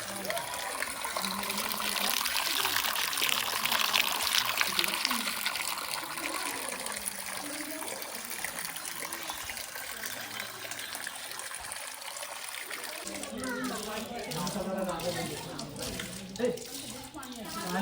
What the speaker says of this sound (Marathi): या गोमुखातनं बाराही महिने पाणी येत असतं